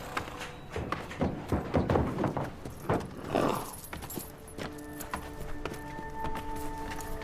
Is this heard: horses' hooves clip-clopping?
yes